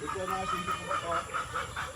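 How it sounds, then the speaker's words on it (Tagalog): Chickens cluck repeatedly in short bursts over a steady, noisy outdoor farm background. "Tapos may mga manok at titingnan natin may mga sisiyo dito na bago."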